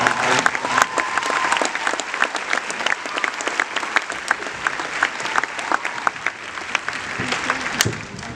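An audience applauds at a gathering for an impromptu speech, with dense, even clapping from many hands holding steady for about eight seconds, fairly close and with no talk over it.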